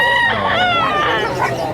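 A rooster crows at a pet market in Bocaue, one loud, close, drawn-out call that fills the whole moment.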